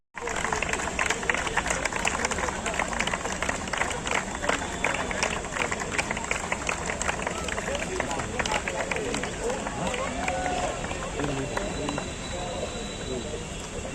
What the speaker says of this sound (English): please keep applauding for our runners-up team